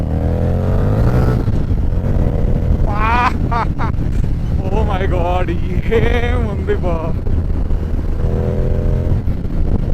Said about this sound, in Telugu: ఎలా ఉంది ఈ సౌండే వేరే లెవెల్లో ఉంది. ఇది యాక్చువల్గా మోడిఫైడ్ ఎగ్జాస్ట్ అనమాట.